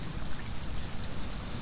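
Steady rain falls in the survival video game Sheltered, a dense, even hiss of drops throughout with no talk over it.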